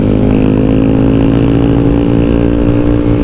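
A tuned motorcycle with an aftermarket exhaust speeds at high revs, its engine and exhaust producing a loud, close, sustained buzzing drone with no talk.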